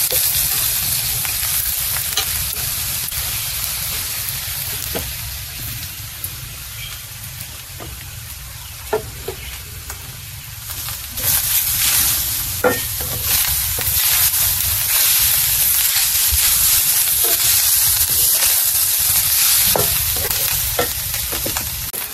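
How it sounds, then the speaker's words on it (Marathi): Grated coconut dry-roasting in a pan for a Malvani-style crab curry, a steady close sizzle with stirring scrapes and light crackles throughout, growing a bit louder partway through, with no voices. "तर हे बघा असा खरपूस हा खोबरा भाजला"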